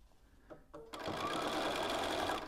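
A sewing machine starts up after a few soft clicks and then stitches fabric steadily, a close, even whirring hum that runs on without pause.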